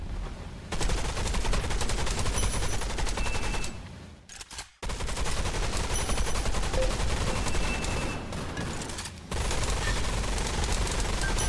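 Dense, sustained automatic gunfire from firearms in the shooter game Gun Raiders, nearly continuous bursts with two brief pauses, loud and close.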